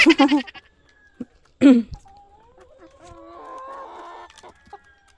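Chickens being fed on a farm give sharp squawks and clucks in bursts, followed by softer drawn-out calls and quiet pecking sounds, fairly close in a calm outdoor setting.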